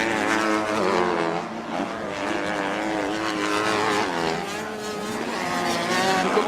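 Many motorbikes roar off the start line of the Enduropale Juniors 2019 beach race, a loud, continuous dense engine drone with shifting, rising whine that never lets up.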